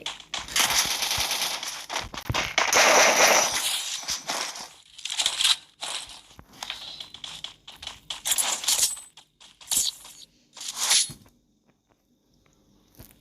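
XM8 rifle gunfire in the Free Fire video game comes in loud, rapid automatic bursts, repeated several times with short gaps, and thins to sparse shots before a quiet end.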